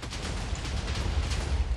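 Explosion from an ICBM mod explosive in Minecraft, a loud sustained rumbling roar with dense crackling debris, steady throughout the short stretch.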